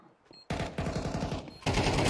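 Gunfire in the video game Counter-Strike 2: a rapid automatic burst of close, loud shots, with a brief pause before another dense volley near the end.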